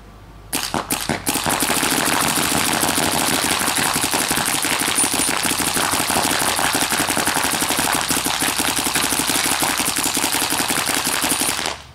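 A Bob Long Victory paintball marker with its stock barrel fires in semi-auto, a dense, loud stream of rapid sharp pops that runs almost continuously for about eleven seconds after a few separate opening shots.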